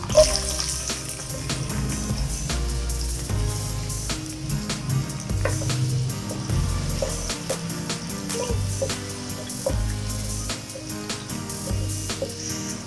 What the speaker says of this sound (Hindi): ऑयल गर्म हो चुका है। अब हम इसमें प्याज शामिल करेंगे।